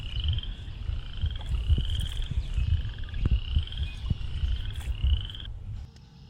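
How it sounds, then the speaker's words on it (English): Chorus frogs call in a Calamus swamp in April, a series of rising, rasping trills repeated in steady rhythm, fairly faint against a low rumble of background noise before stopping near the end. "You can hear the chorus frog that sounds like running your thumb over a comb."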